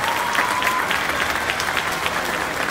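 A festival crowd at a folk music event in Mendoza applauds continuously in a dense, loud wash of clapping.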